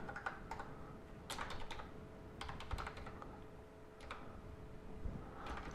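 Faint, close keystrokes come from a computer keyboard while robot code is edited, arriving in quick irregular bursts separated by short pauses, with a steady low hum underneath.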